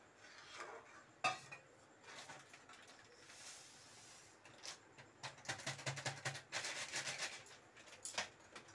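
A spoon scrapes and clinks against a pan while semolina is stirred continuously for a home-cooked dish, with quiet, irregular scraping strokes close by.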